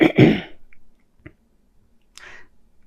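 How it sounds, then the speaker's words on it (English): A close, rough throat clearing, followed by a couple of small quiet throat noises and a short breathy rasp. "I'm having to clear my throat."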